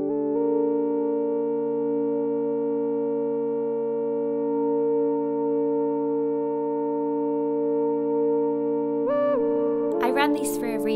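A sustained, steady synth tone hums with layered harmonics for several seconds, then shifts into a brief bright flurry of notes washed in reverb.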